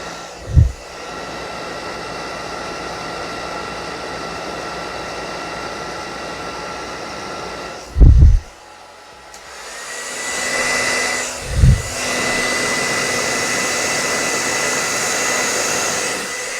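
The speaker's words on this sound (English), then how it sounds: "I'm going to use this hair dryer right behind the camera on low" A hair dryer on its low setting blows steadily from just behind the camera toward a Coleman butane stove and an NTK Alpha-T ceramic infrared camping stove, a continuous airy roar broken by a few brief thumps and a short dip.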